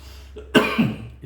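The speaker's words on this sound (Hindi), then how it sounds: "इस तरह की खांसी आ सकती है" A single sharp cough bursts out close by, followed by a brief rough throaty tail, then quiet.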